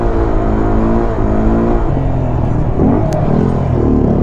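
A Honda Grom motorcycle engine revs steadily at a stunt lot, a loud, continuous throttled drone with rising and falling pitch as it is held in second gear, close to the listener.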